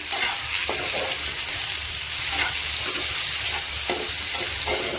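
Tomatoes and egg fry in a pan with salt, a constant close sizzling hiss with occasional soft stirring scrapes and crackles throughout.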